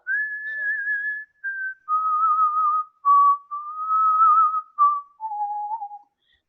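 A person whistles a slow, clear Western cowboy melody up close, a few sustained phrases with short breaths between them, gradually stepping down in pitch.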